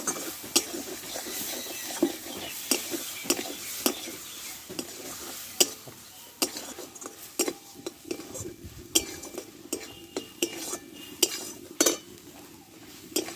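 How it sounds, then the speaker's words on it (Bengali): Spice paste frying in a pan with a little water, stirred continuously: a low sizzle under frequent sharp clinks and scrapes of a metal spoon against the pan, close and busy, without talk. "দেখো মশলাটা আমি ভেজে নিয়েছি"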